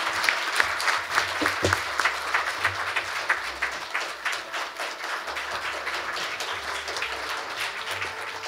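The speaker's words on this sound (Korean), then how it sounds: "큰 박수로 환영해 주시기 바랍니다." Audience applause welcoming a speaker to the stage at a university labor forum lecture in Korea: sustained, dense clapping from a seated crowd, steady throughout with no voices over it.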